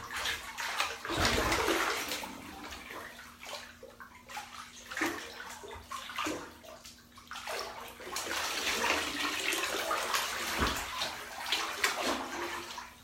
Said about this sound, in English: Give me 1 second while I submerge my fat head.